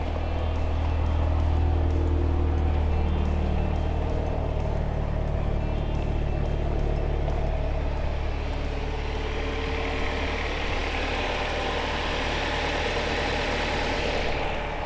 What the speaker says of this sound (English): Oh, and it idles.